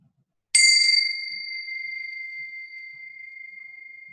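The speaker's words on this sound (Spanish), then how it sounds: "con el sonido de la campana" A single singing bowl or meditation bell is struck once to close a mindfulness breathing exercise, giving a clear bright strike followed by a long, pure, slowly fading ring in near silence.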